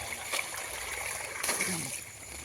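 Water falls from a height and trickles and splashes continuously at a soft level, with a couple of brief louder splashes breaking through, at a village fishing spot.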